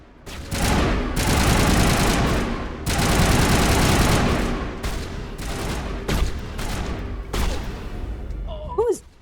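Heavy gunfire in the video game Mass Effect, loud, close bursts of rapid automatic fire in several long volleys separated by short gaps, with a player's voice briefly at the end.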